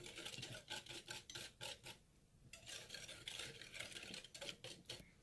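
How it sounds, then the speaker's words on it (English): A spoon stirs coffee mixture into butter in a bowl, giving rhythmic rubbing, scraping strokes close up, repeated steadily with a brief pause midway, fairly faint overall. "Stir that."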